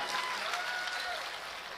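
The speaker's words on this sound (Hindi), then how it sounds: "जरा सा तालियां वालियां बजाइए ताकि लगे कि आपका डर निकल गया है" Scattered clapping rises from the audience at an All India Mushaira in Aurangabad, a brief, fairly faint patter of hands with a thin tonal whine running underneath.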